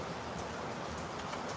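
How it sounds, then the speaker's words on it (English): Rain falls steadily outdoors, an even hiss of drops on surfaces that stays constant and fairly loud throughout, with no voices. "It's raining again."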